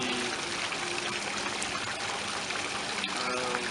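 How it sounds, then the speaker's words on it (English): A small water pump circulates water in an aquarium setup, giving a continuous trickling, splashing flow that stays close and steady throughout. "the water will be sucked in back into the pump and continuously release the water flow"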